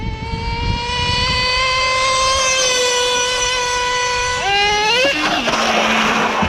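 Traxxas Revo 3.3 nitro RC monster truck at full throttle: a loud, sustained high-pitched two-stroke whine that climbs steadily, shifts up and then drops off sharply near the end.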